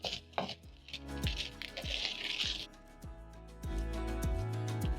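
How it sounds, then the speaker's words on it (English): Fried rice with vegetables gets tossed and broken up in a pan, with close, sharp knocks and clatter of a utensil against the pan over steady background music. "Toss the rice together with the veggies while breaking down the rice."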